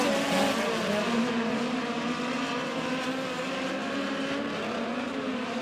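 Midget race cars with bullet chassis racing around Lake Ozark Speedway, a continuous loud high-pitched engine whine, several cars droning together at full throttle with no talk.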